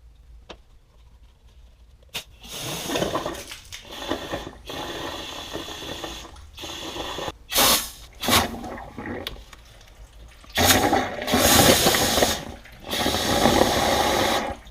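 Air pressure forces water out of the cooling system of an Audi 5000 CS Quattro. Near, irregular bursts of sputtering, gurgling and hissing come in surges between quieter gaps, with clicks and rattles from the fitting and no talk.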